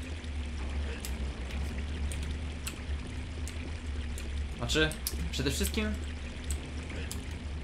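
Water pours steadily in the Unreal video game, a constant broadband rush running through the whole stretch while someone talks over it.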